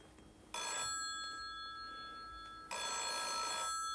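An old telephone bell rings indoors in two loud bursts, the first lasting about two seconds and the second starting after a short pause, with a faint hum in the room between them.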